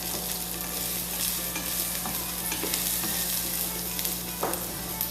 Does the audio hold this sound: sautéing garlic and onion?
yes